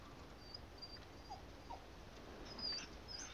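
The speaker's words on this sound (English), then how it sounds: "Oh, the dog. The doggy." A dog whimpering faintly in Resident Evil 4 Remake, a few soft high whines over a quiet, hissy game background.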